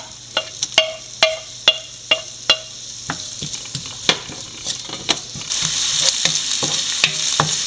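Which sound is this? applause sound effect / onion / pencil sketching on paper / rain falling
onion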